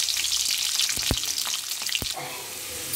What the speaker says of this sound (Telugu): వెల్లుల్లి రెబ్బలు ఆయిల్లో వేసుకుని వేయించుకోవాలి